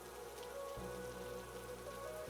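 Rain falling steadily on a surface, a dense even hiss with a low continuous hum underneath, no voices.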